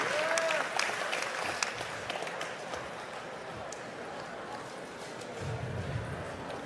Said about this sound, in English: a round of applause to his opponent